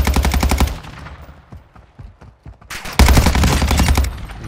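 Rapid automatic gunfire from the Cronen Squall, a new meta weapon in Call of Duty Warzone 2.0 Season 3, loud dense bursts at the start and again near the end, separated by a quieter stretch of scattered distant shots and fading echoes.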